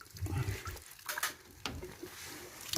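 Water rushing through central heating boiler pipework during a flush, a close, gurgling flow with splashy bursts and a low churning rumble that surges and eases over a few seconds.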